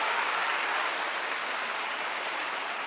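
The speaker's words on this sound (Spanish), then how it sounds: "Fuertes aplausos a Él." Congregation at a church service applauding, a dense, steady wash of many hands clapping at even loudness throughout, with no voices standing out.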